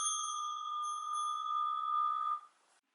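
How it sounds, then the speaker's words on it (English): A single clear bell tone rings out at the Easter Vigil in church, sustained and fairly quiet, holding steady for over two seconds before cutting off abruptly into near silence. "Then we hear the bells ring and the organ fanfare"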